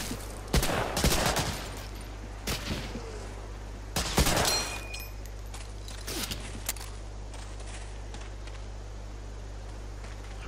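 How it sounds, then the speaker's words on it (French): Gunfire in the WWII shooter game Medal of Honor: Allied Assault: scattered single shots and short bursts at irregular intervals, fairly distant and modest in level over a steady low background hum. "J'ai encore entendu un coup de feu quelque part là."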